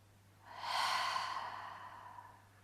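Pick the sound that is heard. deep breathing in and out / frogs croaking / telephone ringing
deep breathing in and out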